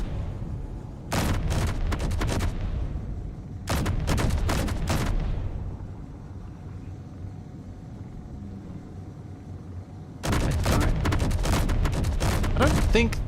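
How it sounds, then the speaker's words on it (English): Gunfire rings out during an airship battle in a video game, coming in three loud clusters of rapid shots separated by stretches of droning engine hum, with faint talking now and then. "We're being fired at. Please return fire."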